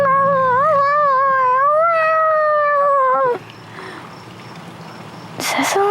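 A person with Tourette's syndrome imitating a cat with a long, wavering, drawn-out meow that rises and falls, followed by quieter background noise and a brief rustle.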